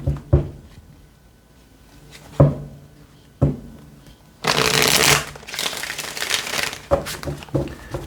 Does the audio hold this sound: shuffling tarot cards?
yes